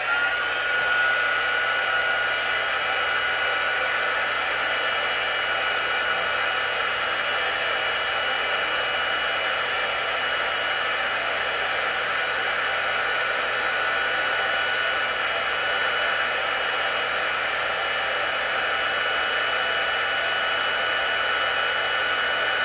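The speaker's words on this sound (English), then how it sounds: "I'm going to bring in my heat tool." Embossing heat gun melting embossing powder on a Christmas card: a steady, loud, hair-dryer-like blowing whine with an even fan roar that holds unchanged for over twenty seconds, with no talking.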